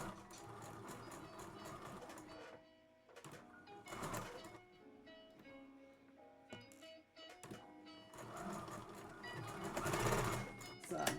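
Household sewing machine backstitching the bodice seam of a child's dress, rapid mechanical whirring in short bursts with stops between, fairly quiet and close.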